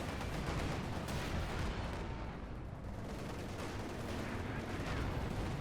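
Strafing support gunfire in Company of Heroes 2, a continuous, loud wash of rapid machine-gun and cannon fire with booming impacts that slackens briefly midway before resuming.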